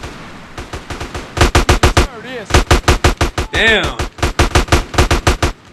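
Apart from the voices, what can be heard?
gunfire from the video game GTA San Andreas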